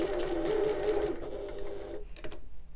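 A sewing machine stitches fabric under the presser foot in a short burst of close, moderate whirring that slows and stops, followed by a few faint handling clicks.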